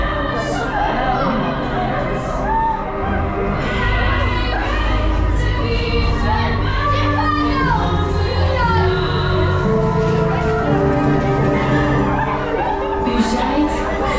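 Excited crowd of riders waiting in a ride pre-show at the Efteling theme park, with a continuous hum of overlapping chatter, laughter and occasional cheers amid tonal background music, steady and fairly loud throughout.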